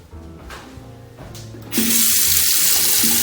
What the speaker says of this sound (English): Hot and cold running water.